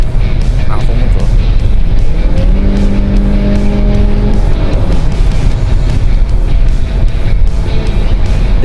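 A Dodge Journey engine is pushed hard in a low gear, a loud, close, continuous drone with a rising then steadying engine tone under heavy cabin rumble.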